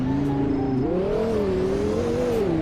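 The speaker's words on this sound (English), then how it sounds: "Kind of hear that turbocharger, I think, inside. Turbocharger or intake." A car engine revs up in the Roblox game Greenville, with turbocharger or intake whine, the pitch climbing and wavering steadily and continuously, close and loud with no talk.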